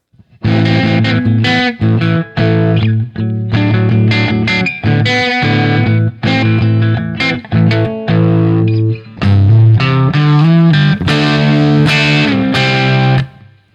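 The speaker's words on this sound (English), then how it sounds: "That's a lot of distortion on that Marshall." An electric guitar with heavy distortion through a Marshall amp plays loud, saturated chords in repeated phrases with brief stops, thick and sustained throughout.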